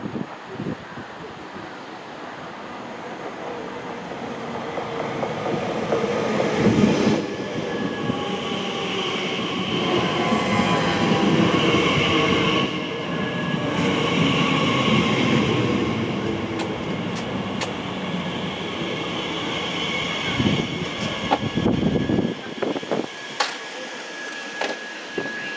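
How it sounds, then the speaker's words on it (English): A Class 345 electric multiple unit train rumbles steadily into a station with a broad whooshing roar and a faint high whine, fading quieter near the end. "the Bombardier Design Electric Multiple Units Class 345, seen here entering the station"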